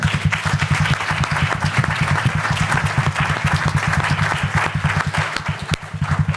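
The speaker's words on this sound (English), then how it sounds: "I'd appreciate it if you all would give he and Dr. Larry Pierre a round of applause." A conference audience at an event on Haitian immigration gives a round of applause: dense, loud, steady clapping that carries on throughout with no talking over it.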